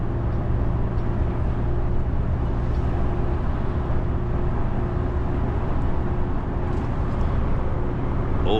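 Volvo FH 520-horsepower truck cruising on the road, a steady, loud low engine drone and road rumble with constant tonal hum, unbroken throughout.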